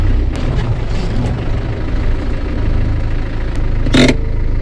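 A Land Rover Defender 300 Tdi diesel engine with boost upgrades labouring uphill, a steady close mid-pitched drone held throughout with a brief louder burst near the end, no talking.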